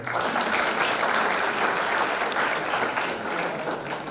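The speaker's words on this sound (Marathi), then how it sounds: "त्याच्या नावाने सर्वांनी टाळ्या वाजवा" Applause from a live show audience in Pune fills the clip with dense, steady clapping for the whole stretch, loud and sustained from a sizeable crowd.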